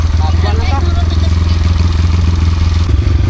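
A motorcycle engine runs steadily nearby with a throbbing, rattly idle, loud and continuous, while someone talks over it.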